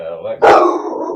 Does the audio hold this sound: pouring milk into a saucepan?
no